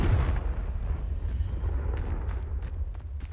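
A deep, rumbling blast from the Confringo curse in Hogwarts Legacy booms loudly at first and then fades into a low, lingering roar with scattered crackles.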